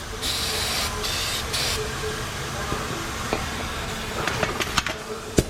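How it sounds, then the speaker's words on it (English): A compressed air gun hisses in a shop during bearing work on a Ford F350 Harley Davidson Edition 7.3 Powerstroke, with steady blowing and a few short bursts, then clanks and knocks of tools near the end. "Quiet down, air gun."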